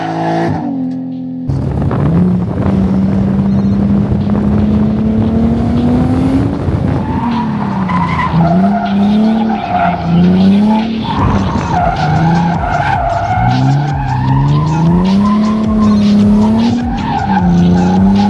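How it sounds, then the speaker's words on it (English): A car drifts nearby, its tires skidding and squealing in long, loud, wavering screeches over a continuous engine roar, with the pitch sliding up and down as it slides through the turns. "You watching Chase drift?"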